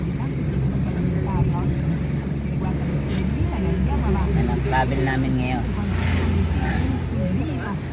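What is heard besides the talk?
riding inside a car in Rome, Italy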